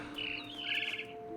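Bird chirping in the video game What Remains of Edith Finch, a few bright high tweets over a steady tonal game ambience, fairly quiet with no speech.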